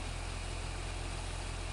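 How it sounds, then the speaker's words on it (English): A farm vehicle's engine in Farming Simulator 17 runs with a steady, loud, droning hum, constant throughout with no pause or break. "Love how the engine revs up when you do that."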